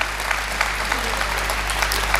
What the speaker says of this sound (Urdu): آپ ایک بار ان کے لیے تالی ضرور بجائیں